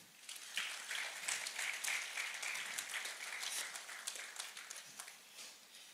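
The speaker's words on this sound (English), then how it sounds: "Please let's have another round of applause." An audience at a real estate summit applauds in a sustained round of crisp clapping, faint and somewhat distant, continuing evenly for several seconds with no voices over it.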